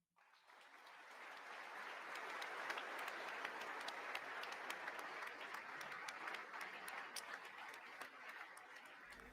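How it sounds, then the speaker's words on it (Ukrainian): Sustained applause fills the chamber of the U.S. Congress during Zelensky's speech, a dense continuous patter of many hands rising quickly and holding steady, heard at a moderate distance without talk over it. "були просто оплески від тих, хто сидить в конгресі"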